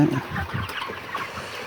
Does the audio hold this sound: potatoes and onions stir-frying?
no